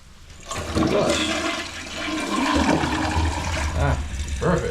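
A toilet flushes after its flush lever has been repaired, a loud rushing gush of water that surges, briefly eases, then swells again as the bowl drains and refills, close and alone.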